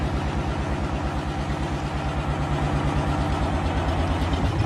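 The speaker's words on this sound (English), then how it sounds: "Can you turn the engine off, mate?" An engine idles nearby with a steady, pulsing low throb that keeps an even rhythm throughout without any revving.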